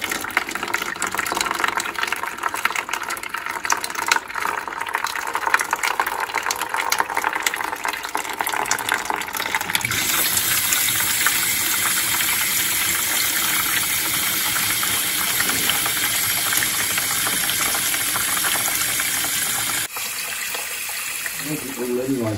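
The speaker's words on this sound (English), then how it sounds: "while Martin's draining that off" Water drains steadily from a Rayburn Royal heat exchanger during servicing, a continuous broadband rush and trickle that changes character partway through and carries on without pause.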